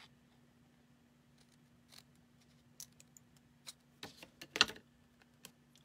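Scissors snip card stock for a snowman card, cutting down the center and then at the points: faint, scattered clicks and crisp snips at close range, with one louder cluster of cuts near the end and no talking.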